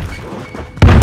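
A grenade detonation in Call of Duty Warzone lands as a single sudden loud thud near the end, following a stretch of quieter game ambience.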